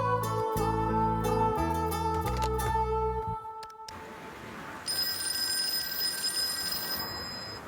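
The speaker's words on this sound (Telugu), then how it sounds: "आपके लिए फोन आया." A telephone rings in a repeating electronic trill over a music background, then the music cuts and a brighter, thinner ringing tone sounds on its own against faint room noise.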